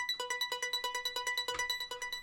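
A rapid arpeggiated synth pattern, plucky repeating notes at a steady fast pulse, bright and alone, from the original arpeggiator preset in a melodic trap beat.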